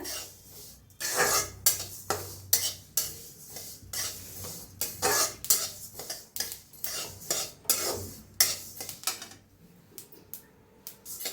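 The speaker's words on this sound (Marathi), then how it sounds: "तीळ चांगलं भाजलेलं आहे, तटतट करायला लागले ते" Sesame seeds roasting in a pan are stirred, producing an irregular run of scraping, rattling strokes of the utensil against the pan, with light crackling from the seeds, close and fairly quiet.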